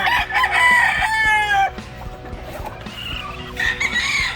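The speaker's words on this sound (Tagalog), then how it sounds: "Ayan yung mga sisiw natin." Chickens on a farm, with a rooster crowing loudly up close and then again more softly, over a background of scattered clucking.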